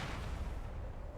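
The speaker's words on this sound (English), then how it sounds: "A missile." A missile explosion in Lies of P comes as a dull, low rumbling boom that stays fairly faint and rolls on steadily for about a second.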